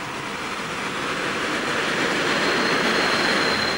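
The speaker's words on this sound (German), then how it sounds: "Bis Ludwigsstadt führt jetzt eine Vorserienlok der Baureihe 110." Electric train hauled by a DB class 110 pre-series locomotive, built after the SBB Re 4/4 type; a steady, loud rolling rumble with rail noise and a faint high whine, no talk.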